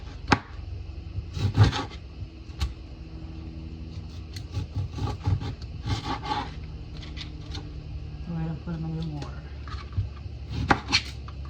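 A knife slices through lemons on a cutting board in a kitchen, producing a series of irregular close thuds and chops, with a low background hum and a person talking.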